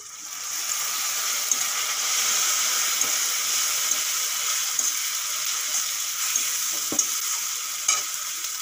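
Ginger garlic paste fries in hot oil over onions already browned in the pan for an egg and potato curry, giving a steady close sizzle with occasional stirring scrapes and small pops throughout.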